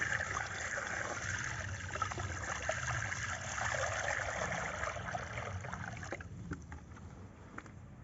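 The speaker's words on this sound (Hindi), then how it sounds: "तो अभी यहाँ पर मैं इसके अंदर पानी डाल लेता हूँ और फिर इस पानी को अंदर रखता हूँ।" Water mixed with ND IB poultry vaccine pours and trickles into a chicken drinker, a steady close splashing stream that thins and stops near the end, leaving a few drips.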